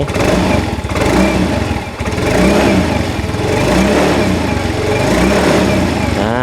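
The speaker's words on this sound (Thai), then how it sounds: "เดี๋ยวผมจะลองเร่งเครื่องกันสักนิดนึงนะครับ" A 2019 GT 125i motorcycle engine with stock exhaust revs loudly and close by, its pitch surging and dipping in a few pulls before climbing sharply at the end.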